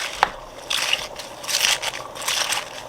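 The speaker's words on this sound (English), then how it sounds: "I just want to stir this around." Cabbage soup with crushed tomatoes and water being stirred in a pot, giving bursts of wet sloshing and scraping at a steady, unhurried pace after a single sharp knock at the start.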